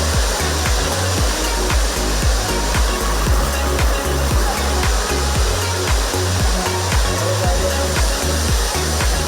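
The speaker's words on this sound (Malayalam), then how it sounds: "അടുക്കടുക്കുകളായി 3 വെള്ളച്ചാട്ടങ്ങൾ" A tiered, three-step waterfall at Kattippara in Kozhikode sends out a steady, loud broadband roar of rushing water, with a regular low pulsing thump running beneath it throughout.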